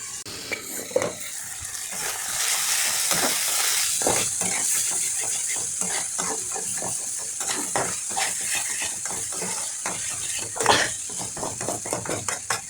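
Baim eel fish frying in a pan, a continuous sizzle broken by repeated scraping clatters of a spatula stirring against the metal, close and fairly loud.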